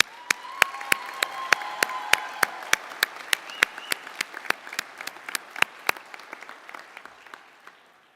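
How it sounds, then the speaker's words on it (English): An audience applauds faculty and staff at a university commencement ceremony, sharp individual claps standing out over a dense wash of clapping that gradually thins toward the end. "But please join me in thanking them with a round of applause."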